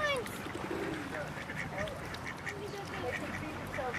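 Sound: ducks quacking at the zoo

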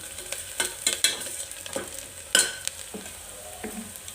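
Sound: turmeric being mixed into food in a clay pot

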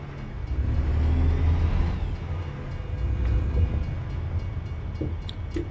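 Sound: trains passing in video game American Truck Simulator

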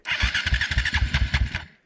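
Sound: KTM 525 motorcycle engine starting

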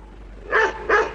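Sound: Doberman dog barking and attacking

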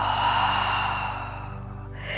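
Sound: slow exhale during breathing exercise

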